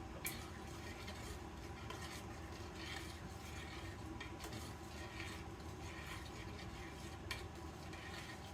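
Butter being stirred into a pot of butter chicken, a soft, steady scraping and swishing of a spoon against the pot, close but quiet and continuous throughout.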